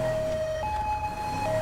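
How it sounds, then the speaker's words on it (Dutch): An emergency vehicle siren in GTA 5 wails steadily and loudly, alternating between two sustained tones over a constant engine and road rumble, with no talking. "aan deze sirene kan ik voorlopig nog even niks doen"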